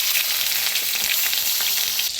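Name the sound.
green chillies roasting in a pan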